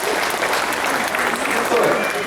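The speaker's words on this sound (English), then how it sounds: "How about we give these 3 tigers a big round of applause." Steady applause from a crowd at a tiger show, dense clapping that fills the whole moment without breaks.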